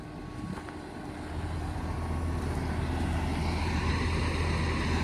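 A tractor doing deep tillage in a field being prepared for beets, a steady low engine drone that grows louder and closer after the first second and then holds a constant rumbling level, with no talking.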